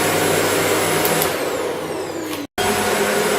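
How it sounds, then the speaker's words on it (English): A Shark DuoClean NV801UK powered lift-away vacuum cleaner runs with a loud, steady whine close by, then cuts out abruptly for a split second and starts again. "having a go with the Hoover. It's very, very powerful if you can hear me"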